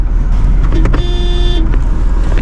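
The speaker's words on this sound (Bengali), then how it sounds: "একটু হর্ন দিচ্ছি আসার জন্য" A vehicle horn sounded once in a sustained toot of about half a second over loud engine rumble and road noise.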